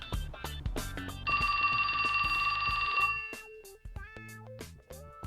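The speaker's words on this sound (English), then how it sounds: "That's my phone." Cell phone ringing in the video game 428 Shibuya Scramble, a bright electronic ring lasting about two seconds over game background music, no talk.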